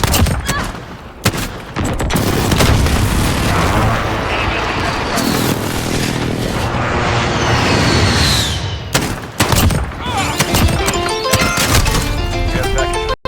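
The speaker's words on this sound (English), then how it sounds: "Allied precision airstrike incoming." Explosions and gunfire from an allied precision airstrike in a revolver-only video game match, rapid loud blasts and bursts piling on each other close up, with short breaks near the end.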